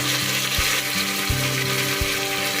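Mint leaves with green chillies frying in oil in a pan for hotel-style tomato bath, a steady close sizzle with a few soft spatula scrapes and taps against the pan.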